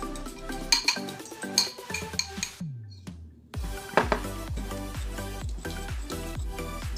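A fork beating banana cake batter in a bowl by hand, rapid rhythmic clinking and tapping strokes against the bowl with a brief pause midway, close and clear, no voices.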